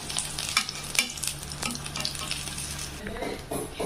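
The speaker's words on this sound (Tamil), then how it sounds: "இந்த ஆயில் காஞ்சதுக்கப்புறம் நம்ம ஒவ்வொரு ஸ்லைசஸாக நம்ம இதில் போட்டு வறுத்துக்கலாம்." Eggplant slices fry in oil on a tawa with a constant crackling sizzle, broken by scraping stirs and light clinks of a utensil against the pan, close and moderately loud.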